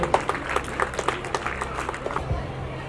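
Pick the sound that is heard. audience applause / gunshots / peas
audience applause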